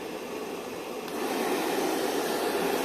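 A hair dryer blows a steady, broad, close whooshing rush of air, growing a little louder partway through, with no talk, while it holds a ball floating in its airstream.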